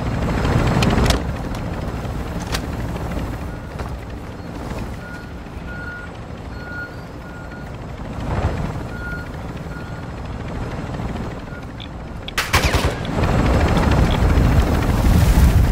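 A helicopter in a video game, a loud, continuous rotor roar filling the scene with a few sharp impact bursts, with no talk.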